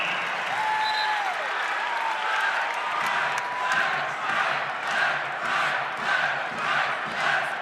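Scattered derisive applause from Kansas State fans in a college basketball arena during a West Virginia game, rising and falling in waves over the crowd's murmur, with a whistle-like tone early on.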